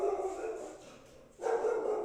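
A dog gives short barks and yips indoors, fairly faint and nearby, with a short pause in the middle.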